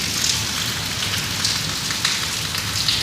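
Steady rain falls in Pakistan, a dense, even hiss of drops on surfaces that continues without a break.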